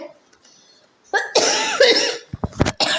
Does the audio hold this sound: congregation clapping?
no